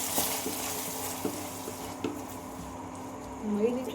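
Onions already fried and now mixed with ginger garlic paste sizzle in a pan for egg rice, with steady frying hiss, a few spoon scrapes and stirring clinks, and a low hum underneath.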